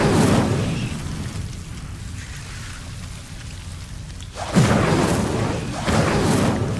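An Incendio fire spell in Hogwarts Legacy bursts with a loud whooshing blast, then a second flaring burst follows after a quieter, rumbling lull.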